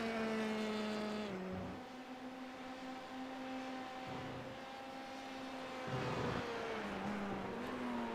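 Formula 3 race cars lapping Donington Park, high whining engines climbing and falling in pitch as they pass and shift gears, loud and close, one car after another without any talk.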